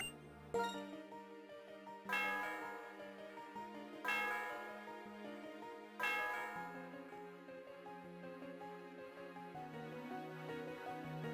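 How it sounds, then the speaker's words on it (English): Chiming bell from the Pokemon Black 2 video game, several resonant strikes spaced about two seconds apart, each ringing out with a rich harmonic tail, loud and alone with no talk. "We ding the dong bell."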